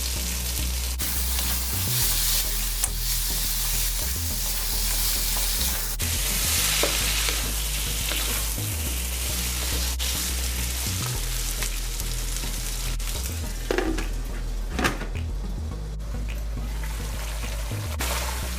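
Steady, continuous sizzling and crackling of mutton frying in a covered pot over medium heat, close and even throughout, with occasional stirring scrapes and no talking.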